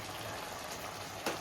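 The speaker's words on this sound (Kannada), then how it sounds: "ಕುದೀತಾ ಇದೆ. ಕುದಿಬೇಕು ಗೈಸ್, ಚೆನ್ನಾಗಿ ಕುದಿಬೇಕು, ಕುದಿಸ್ಬೇಕು." Chicken curry bubbles in a pot on the stove, a soft, steady simmer with faint gurgling and a small splash near the end, heard close and quiet.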